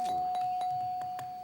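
A game show bell signalling that time is up rings in a quick series of about five bright, evenly spaced dings over a steady tone, clear and close, with no talk.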